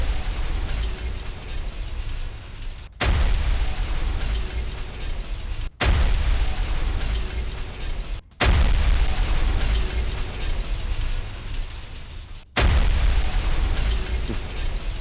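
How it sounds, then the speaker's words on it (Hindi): Russian howitzer artillery fires near Kupiansk, Ukraine: four heavy, loud booms at irregular intervals, each cutting sharply through a constant roar of rumbling noise. "हॉटजियर तोप से यूक्रेन पर भारी फायरिंग"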